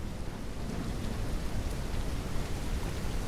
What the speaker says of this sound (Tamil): கைஸ், மழை ஆரம்பிச்சிருச்சு கைஸ்.